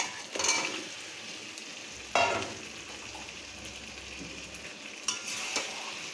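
Chicken pieces sizzling as they fry in hot spiced masala, with bursts of stirring and scraping from a spoon against the pan, steady frying hiss throughout and no talking.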